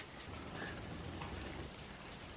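Steady rain during a cricket match falls in a soft, even patter, faint and unbroken, with no voices over it.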